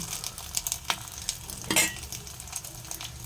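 Batter dropped bit by bit into hot white oil in a wok sizzles and crackles steadily at close range, with a few stirring scrapes and a brief louder hiss partway through.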